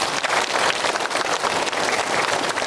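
Audience applause at a Buddhist dharma assembly marking a teachers' Buddhist association's 25th anniversary in Busan, a dense, steady wash of many hands clapping throughout, close and continuous with no talk.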